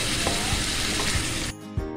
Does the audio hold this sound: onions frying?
yes